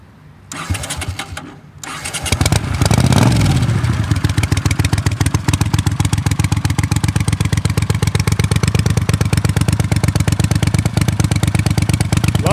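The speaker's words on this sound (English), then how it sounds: "Let me fire it up a little bit here, and then I'll show you what it sounds like." A Honda GL500 cafe racer motorcycle engine cranks briefly, catches with a rising burst, then settles into a loud, steady, rapid idle close by, with no talking.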